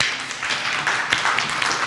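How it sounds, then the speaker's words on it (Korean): A congregation applauding at a church service, a dense, steady patter of many hands clapping for just under two seconds. "박수."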